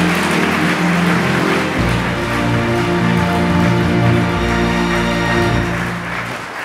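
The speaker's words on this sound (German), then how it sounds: "Danke für den Applaus." Audience applause at a ceremonial celebration marking 100 years of the SoVD social association in NRW, following a speech. Dense, sustained clapping from a large crowd fills the hall, steady and loud throughout.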